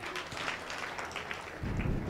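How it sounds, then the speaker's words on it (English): An audience at a talk claps in a brief, scattered burst that grows fuller toward the end, heard from within the room. "Clap for yourself."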